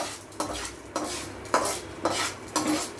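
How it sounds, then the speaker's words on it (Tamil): Golden-roasted chana dal, fenugreek seeds and garlic are scraped from a kadai into another vessel, about five distinct scraping strokes of a spoon against metal at a close, moderate level, with a faint sizzle underneath and no talking. "இந்த கடாயிலேருந்து இந்த பாத்திரத்துக்கு மாற்றிடலாம்"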